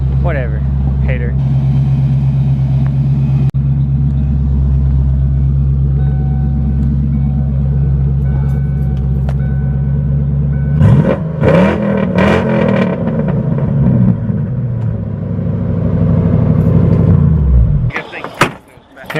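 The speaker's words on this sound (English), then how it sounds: "then I'm gonna give it a couple revs so my dad can get his first impression" A Ford Mustang's engine idles with a deep, steady rumble, then is revved in a few rising and falling bursts before dropping back, while people talk nearby.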